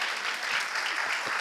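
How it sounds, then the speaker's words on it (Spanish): Audience applause fills the room, a dense, steady wash of many hands clapping at once, even in level and heard without speech over it. "ha sido un aplauso para él"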